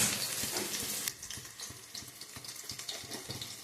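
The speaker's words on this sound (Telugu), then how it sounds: "ఇప్పుడు ఆయిల్ వేడేసాక మనం కట్ చేసుకున్న ఆనియన్స్ని ఇందులో వేసుకొని మంచిగా వేయించుకోవాలి." Chopped onions sizzle in hot oil in a pan for thalakay kura, opening with a loud hissing burst that settles into a steady close crackle with light stirring taps.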